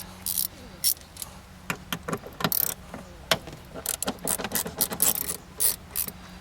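Ratchet tightening a bolt on the convertible top latch of a 1990-2005 Mazda MX5 Miata, quick bursts of clicking pawl strokes in an irregular rhythm, close and quiet.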